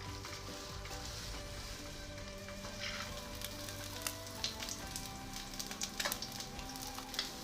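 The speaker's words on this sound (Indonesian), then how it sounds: "goreng tahu yang sudah dikasih adonan ikan giling" Tofu coated with ground fish paste frying in hot oil over low heat, a steady close sizzle with occasional sharper pops and crackles throughout.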